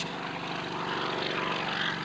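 A vintage 1950s piston-engine helicopter at the La Ferté-Alais air show gives a steady, throbbing engine and rotor drone, continuous and fairly loud over broad outdoor noise.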